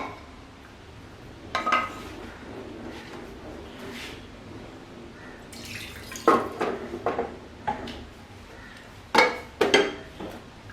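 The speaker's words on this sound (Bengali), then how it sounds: "সামান্য পানি দিয়ে কড়াইটাকে ধুয়ে" Short bursts of water splash and swirl inside a metal wok as it is rinsed, with occasional clanks of the wok, close by and intermittent.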